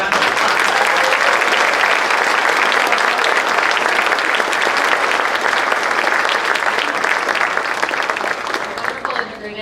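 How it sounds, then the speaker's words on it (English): A large school-event audience gives a long round of applause at an arts awards evening, dense and loud, sustained for several seconds before tapering off at the end. "I do believe they need one more large round of applause"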